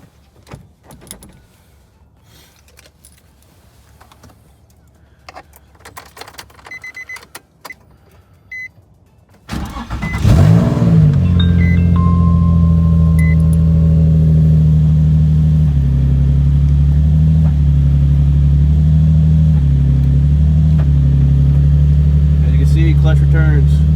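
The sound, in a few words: Nissan 350z with new clutch, engine running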